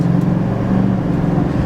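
Chevy Silverado 2500 HD pickup accelerating, a steady low engine hum heard from inside the cab, even and moderately loud over a brief moment.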